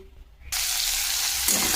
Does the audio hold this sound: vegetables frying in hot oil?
yes